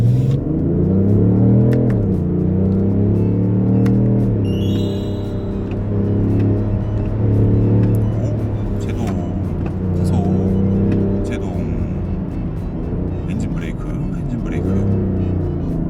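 A BMW X5 M50d of the G05 generation accelerates at full throttle in Sport Plus manual mode, its engine droning and climbing in pitch inside the cabin, with a person talking over it throughout.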